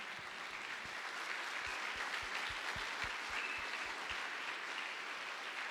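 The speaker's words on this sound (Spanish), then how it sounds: "¿Por qué no le das un aplauso al Rey de la Gloria?" A church congregation applauds in a steady, dense wash of clapping heard from a distance, soft and continuous, with a few low thumps scattered through it.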